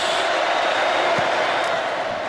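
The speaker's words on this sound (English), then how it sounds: "part of the record crowd that's making a lot of the noise" A record stadium crowd at a Notre Dame at Georgia college football game roars in a dense, steady wash of cheering, loud and unbroken throughout, with a commentator's voice faintly over it.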